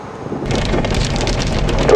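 A Colorado supercell thunderstorm brings heavy rain hammering steadily and close, with a deep continuous rumble of thunder underneath and no talking.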